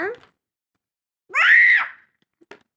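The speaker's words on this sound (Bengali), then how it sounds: "অত চিৎকার করতে হবে তোকে বাবু" A two-year-old child lets out a short, high-pitched scream between brief bits of vocalizing, close and loud against silence.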